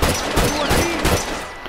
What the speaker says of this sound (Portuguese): Eu atirei tum, tum, tum, tum.